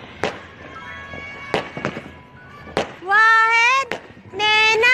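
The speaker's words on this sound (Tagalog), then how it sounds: "Mag-fireworks sila." Several sharp firework bangs pop in quick succession, followed by whistling, rising shrieks of fireworks, with faint voices in the background.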